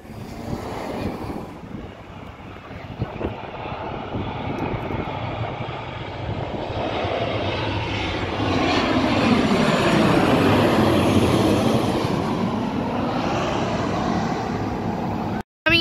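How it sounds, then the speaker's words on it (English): A Virgin Australia Boeing 737-8FE airliner comes in to land at night, its engine roar swelling from a distant rumble to a loud, wind-buffeted whoosh as it passes close. "Coming in now is a Virgin Australia Boeing 737-8FE."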